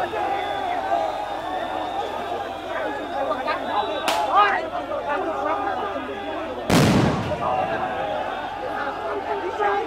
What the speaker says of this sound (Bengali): সাউন্ড গ্রেনেড মূলত বিডিআর সদস্যদের মিছিলের মাঝখানে ফোটানো হচ্ছে।